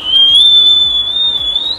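A person whistles a single sustained high note that wavers slightly in pitch and holds for nearly two seconds, close and clear against a quiet room.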